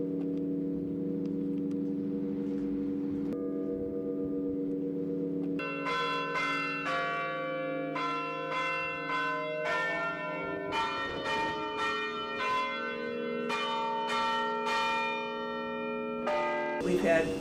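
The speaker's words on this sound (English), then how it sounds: "I've been playing the chimes for 40 years." Tower chimes ring out in a slow sequence of struck bell tones that sound close and resonant, with long ringing overtones and several tones overlapping as each one fades.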